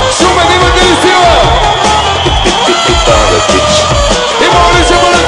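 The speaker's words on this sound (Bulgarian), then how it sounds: "Искам аплодисменти, аплодисменти, силно!" A huge crowd of about 20,000 at a live comedy show in Shumen roars and cheers nonstop, with whoops and shouts, loud and dense throughout.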